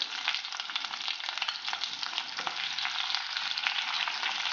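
Ginger, garlic and onion sauté in a pan for Korean braised short ribs, giving a steady, close, even sizzle and crackle with no break and nobody talking.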